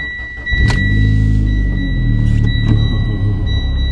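A Mitsubishi Lancer Evolution X engine cranks and catches on a warm start, then settles into a steady low idle rumble with a faint high whine, loud and close.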